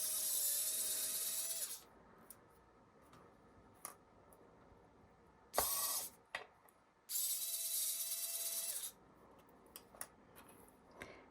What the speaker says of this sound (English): I'm going to hold it still and just drill away.